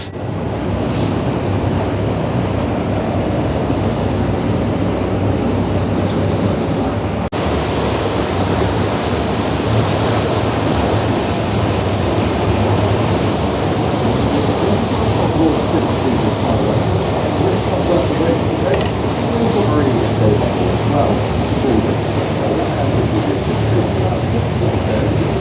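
A cruise boat's engine rumbles low and steady along the Devon coast in breezy, drizzly weather, heavy wind buffeting and water rush nearly masking it throughout.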